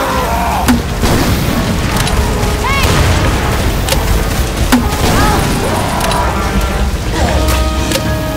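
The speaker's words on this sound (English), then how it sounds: "Grenade!" A grenade blast in the war shooter Hard Rain: Downpour, a loud boom amid constant battlefield din, sharp impacts and clanking mechanisms, with a few brief voice-like sounds mixed in.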